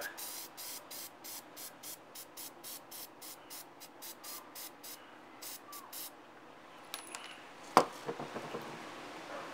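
A rapid series of short, even hissing spray bursts, as lubricant is sprayed onto Vespa ET4 150cc starter parts, followed by a brief clatter and light handling noise near the end.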